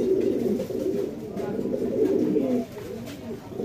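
Pomeranian pouter pigeons coo close by in soft, rolling low-pitched bursts that repeat steadily and fade briefly near the end.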